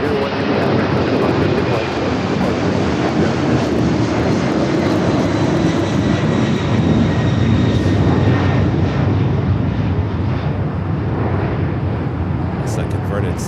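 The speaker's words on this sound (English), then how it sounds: "It's a converted 767 heading to Honolulu." Converted Boeing 767 cargo jet, formerly an American Airlines airframe, roaring steadily and loud at Los Angeles airport, a broad sustained engine rumble holding throughout with a voice talking over it.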